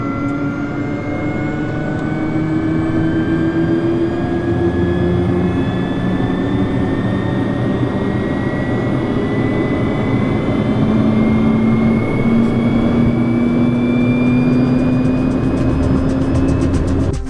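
A Pilatus PC-12 turboprop engine spins up during start on the ground, a loud steady roar with rising whine tones and a low drone held throughout, close and continuous with no voices.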